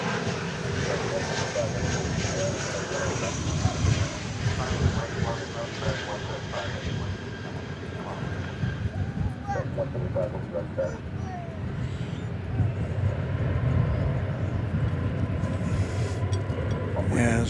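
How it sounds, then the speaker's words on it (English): An Airbus A321 airliner on American's flight from Los Angeles lands at DFW airport, its engine roar loud and sustained throughout, rising and falling slightly as it passes. "As we bring you the landing of American Flight 412 from Los Angeles, Airbus A321."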